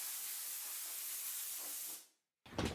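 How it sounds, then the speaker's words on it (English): A compressed-air hose blows dust off cabinet doors with a loud, steady close hiss for about two seconds, then cuts off and a short rougher burst of air follows after a brief gap. "And then I'll grab my dust collector, my air hose, and just spray the dust off."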